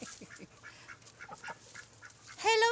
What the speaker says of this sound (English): Ayan ang duck